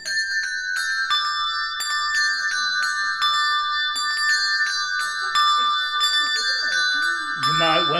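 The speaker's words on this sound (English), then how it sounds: "bells do ring out a great deal for celebration" A peal of church bells rings out for a celebration of the King's coronation in Burnham, bright overlapping strokes falling in a steady changing pattern, loud and close throughout.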